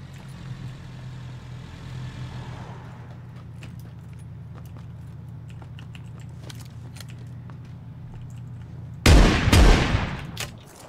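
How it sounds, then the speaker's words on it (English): Sniper gunfire in the battle royale game PUBG: a low hum of game ambience with faint ticks, then a sudden loud sharp burst of shots near the end that fades out quickly. "I think we got a sniper battle going on."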